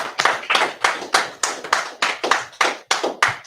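Members of a congregation at a Feast of Purim closing service clap together in a strong, regular beat, about three claps per second, loud and close with no talk over them.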